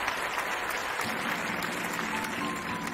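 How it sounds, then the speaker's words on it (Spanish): Audience applause for students at a school closing ceremony, a steady dense wash of clapping lasting throughout, moderately loud and without talk. "Un fuerte aplauso para nuestros alumnos que se han destacado por su misionalidad."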